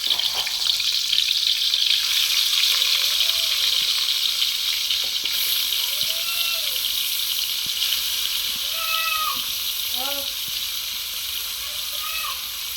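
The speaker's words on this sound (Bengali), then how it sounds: "আমি আস্তে আস্তে জাল দিয়ে মাছটা ভেজে নিব" Pieces of silver carp fry in soybean oil over low heat in a kadai, a continuous even sizzle close by, with faint whistling tones in the background.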